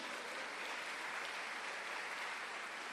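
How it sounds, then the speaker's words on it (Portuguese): A church congregation claps steadily and continuously, a dense, even wash of applause at moderate volume throughout. "dá um aplauso para Jesus."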